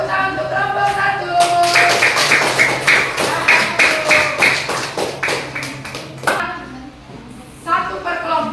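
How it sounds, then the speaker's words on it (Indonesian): Classroom students clap for a group, a burst of close, uneven hand claps building and then tapering off over several seconds, with a voice and some musical tones heard around it. "Tepuk tangan untuk kelompok 1."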